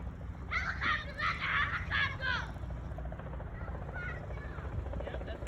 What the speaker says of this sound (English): Yep, that's the helicopter.